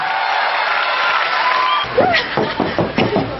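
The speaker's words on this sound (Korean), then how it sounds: "다시 한번 큰 박수 부탁드립니다" Studio audience applause on a televised singing competition, a dense wash of clapping that fades into scattered knocks and a few voices near the end.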